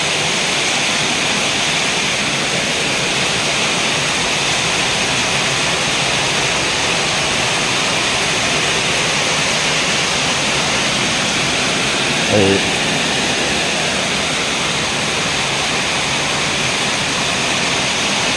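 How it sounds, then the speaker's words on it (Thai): Heavy downpour of rain under sunshine with no wind, a dense, loud and steady roar of fat drops and flowing runoff filling the whole stretch, with a brief murmured voice once near the end. "ลงเม็ดหนาเม็ดใหญ่เลยครับนี่"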